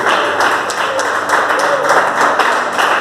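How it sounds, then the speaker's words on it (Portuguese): Church congregation clapping hands together in praise to Jesus, loud and close, with a rhythmic group beat of sharp claps over a sustained musical and vocal backdrop. "pode bater as palmas para Jesus"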